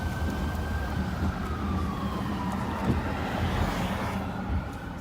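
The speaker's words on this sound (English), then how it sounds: "Sounds like a fire truck." A fire truck siren wails in the distance, a faint rising and falling tone over steady traffic and wind noise.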